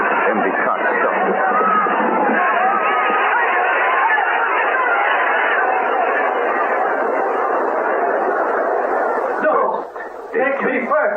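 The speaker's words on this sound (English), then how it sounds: "The crowd cried out in fury." Angry crowd in a radio drama, a dense, loud babble of many shouting voices heard as through an old narrow-band broadcast, sustained throughout before briefly dipping near the end.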